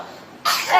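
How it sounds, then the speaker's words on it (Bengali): A child's single short, breathy cough bursts out near the end after a quiet moment, close and fairly loud. "কাশি হচ্ছে,"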